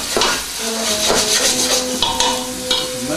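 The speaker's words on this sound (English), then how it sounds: "we've got the onions in the pan" Onions sizzle in a frying pan for a spicy meatball sauce while a utensil stirs them, with a steady hiss and repeated scraping strokes close by.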